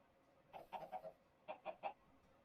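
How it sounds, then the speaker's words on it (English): Chickens cluck in the Minecraft video game, two quick bursts of short clucking notes, clear and fairly faint, with no talk over them. "Hello, chickens."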